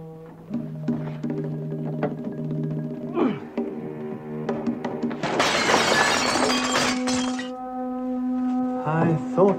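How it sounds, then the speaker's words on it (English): A frosted glass door is forced and shatters in a sudden loud burst of breaking glass lasting about two seconds, set against steady music in a 1971 television spy drama. "Forcing the frosted glass door was a ridiculously simple matter for a man of Von Moldrick's talents"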